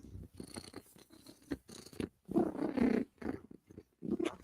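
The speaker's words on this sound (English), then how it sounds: "when Cat is purring, Cat is a happy girl" A female cat purrs close by in rhythmic, rumbling bursts that swell and fade with each breath, alone with no talk.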